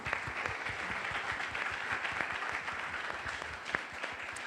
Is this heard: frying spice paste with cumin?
no